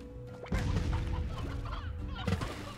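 Chickens cluck in the video game Slime Rancher, a dense cluster of fowl calls mixed with game sounds and a couple of impact-like thumps, continuous and fairly loud.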